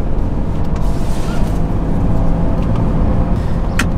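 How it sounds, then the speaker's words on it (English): A turbocharged BMW F80 M3 or F82 M4 engine runs steadily with a low, continuous rumble and a faint higher turbo whine, heard up close without talking. "you can actually hear the turbos a little bit more"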